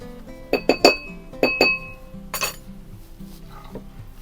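A spoon clinks against a glass container while a DIY glycerin skin mixture is stirred, giving a few sharp close taps and rattles in quick bursts, followed by fainter scraping and a last light clink.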